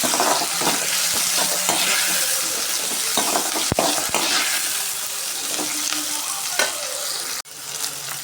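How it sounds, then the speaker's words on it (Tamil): Onion and tomato sauté in a pan with a dense, constant sizzle and repeated spatula scraping and stirring, close and fairly loud, with a sharp clack near the end. "சேர்த்து நல்லா வதக்கி விட்டுக்கலாம்"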